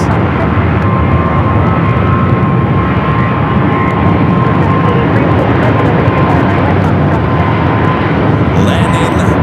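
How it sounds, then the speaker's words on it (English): An airliner lands on runway 25 left at Phoenix Sky Harbor, a loud, sustained, wide roar of engine and rushing air close by that stays steady throughout, with a faint whine running through it. "Landing"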